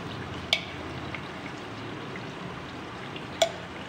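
Ginger garlic paste frying in a pan, a faint steady sizzle throughout with a few soft clinks from a utensil against the pan.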